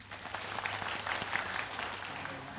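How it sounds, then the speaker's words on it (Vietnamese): Crowd applause for a contestant at a cải lương singing competition semifinal, a steady burst of many hands clapping at moderate level without talk. "Bây giờ Đức Huệ nếu mà hạng nhất thì dành tràng vỗ tay lớn."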